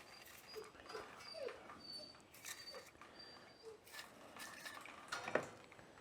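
A dog whimpers and whines softly in short, scattered cries during rainy weather, mixed with faint clinks of dripping water hitting a pan on a garage floor; quiet and close.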